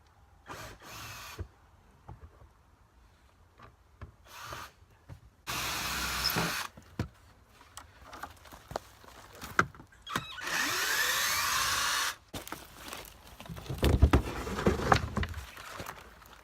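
A power drill backs screws out of a wooden beehive box in several short whirring bursts of one to two seconds, separated by clicks and handling noise, fairly close.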